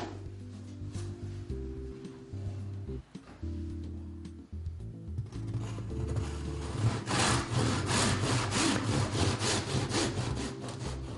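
Wooden skirting boards being sawn at an angle by hand, a close, steady series of rhythmic rasping strokes over a low background hum, growing louder toward the end, with no talking.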